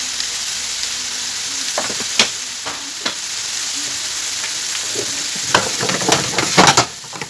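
Minced meat fries in a pan with a steady, close sizzle, broken by sharp scraping clicks from stirring that grow busier toward the end.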